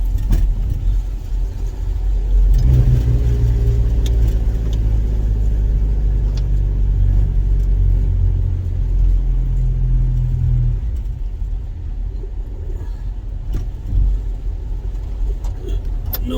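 A car with exhaust trouble, its engine rumbling loudly and revving under strain for about eight seconds, then dropping to a lower steady idle with occasional knocks.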